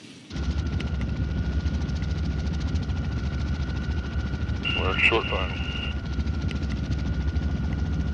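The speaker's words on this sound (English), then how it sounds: "The pilot had to carefully maneuver the massive helicopter to keep the rotor blades from hitting the rock walls." Rescue helicopter hovering close to rock walls on Mount Whitney, its steady loud rotor and turbine drone filling the whole clip, with brief radio-style talk partway through.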